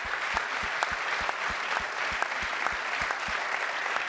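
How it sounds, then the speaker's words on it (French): An audience at a medal ceremony for civic engagement claps steadily in a hall, a sustained round of applause with one sharp, close clap repeating rhythmically over the crowd. "vous pouvez l'applaudir"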